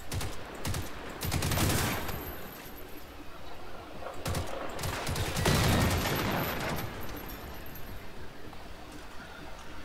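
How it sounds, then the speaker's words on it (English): Dense bursts of video-game gunfire crackle through most of the stretch, with heavier volleys swelling near the start and again in the middle, loud and continuous under a busy battle din. "Taking fire."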